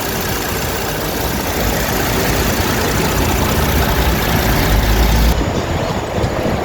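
A 2018 Bentley Bentayga 6.0 W12, about 30,000 km on it, idles with a steady, even engine drone that holds close and continuous throughout with no revving.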